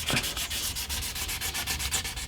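Steady, rhythmic scraping of wet sanding strokes rubbing back and forth across the clear finish of a Gibson SG Special guitar, close and continuous with no voices.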